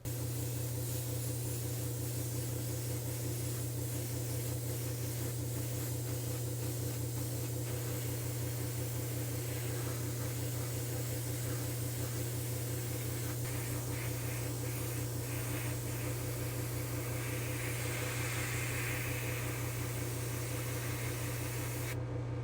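A spray gun sprays Createx Quicksilver chrome paint, hissing steadily for a long stretch inside an enclosed spray booth, over a constant low droning hum from ventilation.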